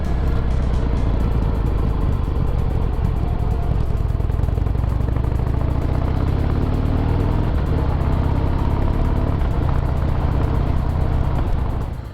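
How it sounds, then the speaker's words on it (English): Harley-Davidson CVO Pro Street Breakout motorcycle with a blacked-out staggered exhaust, a loud steady engine rumble heard up close while riding, continuous and even with no talking. "The blacked out staggered exhaust system produces quite a pleasant note, but it is 2016 compliance friendly, read relatively quiet."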